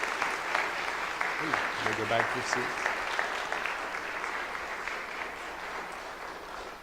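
A church congregation breaks into steady applause that fills the room from start to finish, with voices talking over the clapping.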